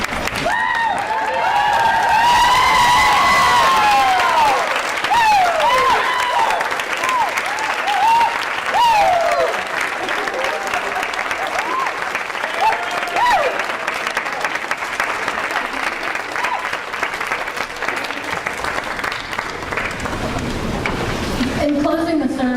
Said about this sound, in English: I'd like the students to stand and give a big round of applause to those who really made this all possible, your families.